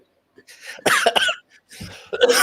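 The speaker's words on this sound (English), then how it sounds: "Oh no, the coughing has started." A person coughs in a few short, harsh bursts separated by brief pauses, close to the listener.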